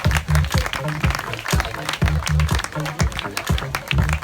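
A crowd applauds at a triathlon prize ceremony in Valbonnais, with a burst of clapping over a steady rhythmic thumping beat underneath.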